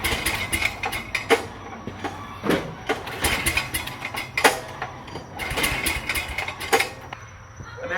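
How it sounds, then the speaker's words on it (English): Miller generator/welder engine being pull started, a series of sharp rattling pull strokes and brief sputters coming in uneven bursts, the engine never catching into a steady run. "let's see if we can get it running by pull starting it"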